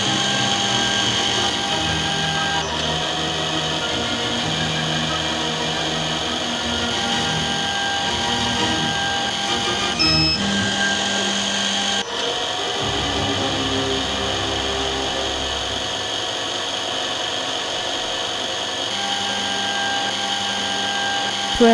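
A DM-200 optical drilling machine runs continuously while drilling angled holes, a steady loud whine with layered tones that shift slightly in pitch, ending with a brief click.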